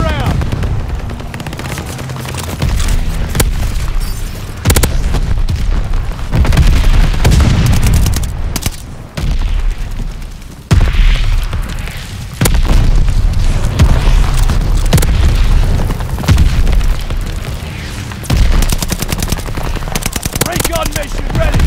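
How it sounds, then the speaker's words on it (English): Call of Duty: Vanguard multiplayer erupts with a mortar barrage: repeated heavy booms and crashing impacts overlap with rapid gunfire and a voice calling out over the din, loud and continuous throughout. "Allies calling a mortar barrage"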